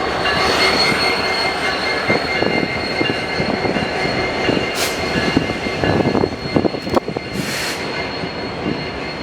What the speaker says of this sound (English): the only pair of NS Ace helper units decided to show up, heading light power back to Altoona.